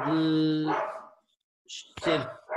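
Dogs bark indoors in a loud, drawn-out burst, then someone talks after a short pause.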